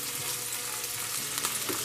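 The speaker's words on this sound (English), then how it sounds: "We just want to kind of make the garlic a little bit crispy." Garlic sizzling and frying in a warming pan, a steady close crackle with small popping spits throughout, no talking.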